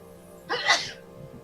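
A single sharp sneeze bursts out close by during a tabletop role-playing game session, brief and loud, with a quiet room tone before and after.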